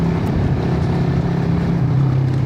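A car engine runs loud and steady close by during a clutchless upshift, with a continuous strained drone and a slight rise in pitch near the end.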